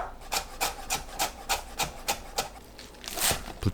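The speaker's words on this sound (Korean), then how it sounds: "양파와 당근을 채 썰어 준비합니다." A knife julienning onion and carrot quickly against a cutting board, about a dozen crisp, evenly spaced strokes close up with no talking.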